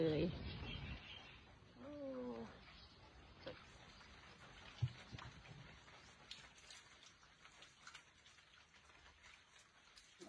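Rain falls steadily as a soft, faint patter of drops on surfaces among garden plants, with a few bird calls early on and a voice briefly at the start.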